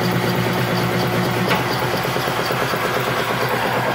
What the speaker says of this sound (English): we're only turning up about 500 RPMs right now